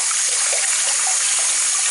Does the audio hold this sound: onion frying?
no